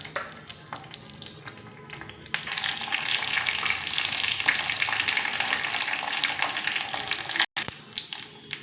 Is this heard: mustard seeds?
yes